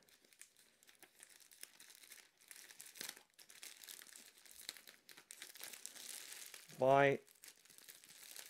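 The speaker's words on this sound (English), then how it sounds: "let's go ahead and open up the clear plastic bag" A clear plastic bag wrapped around a panettone is opened, producing soft, continuous crinkling and rustling close by, with a brief voice partway through.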